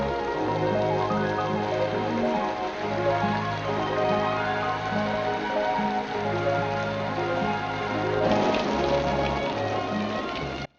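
Steady rain patters through a rain sequence in the 1952 Bugs Bunny cartoon Water, Water Every Hare, with Chopin's Raindrop Prelude playing loudly throughout and a brief swell near the end.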